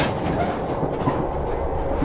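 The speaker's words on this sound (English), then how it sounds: "the train begins to shake, and that's kind of your first inkling that things are going to go wrong for you" Dense, loud rumble of a video game train shaking and rattling, a continuous low roar with clattering texture throughout.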